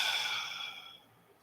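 A slow, audible exhale during a breathing meditation, a soft airy breath released close to the microphone that fades away over about a second.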